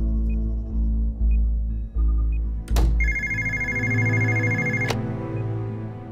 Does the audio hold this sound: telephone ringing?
yes